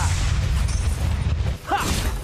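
A turret being destroyed in the video game Mobile Legends: a loud, deep rumbling boom with crashing, mechanical texture that dips briefly before a short bright chirping effect and a renewed rumble.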